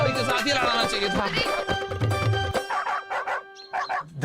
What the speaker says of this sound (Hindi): अरे काला कुत्ता फिर से भौंक रहा है